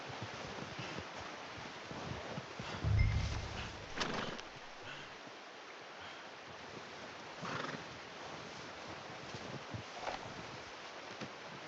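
A horse in the video game Red Dead Redemption 2 whinnies once, fairly close, over a steady windy background hiss, with a low thump and a few faint shuffling sounds.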